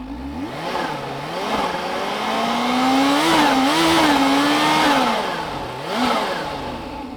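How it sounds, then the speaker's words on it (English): A supercharged Kawasaki Z H2 motorcycle engine revs up and down nearby, its pitch rising and falling in several swells over a steady running rumble, with no talking. "Can you hear that chirrup of the supercharger?"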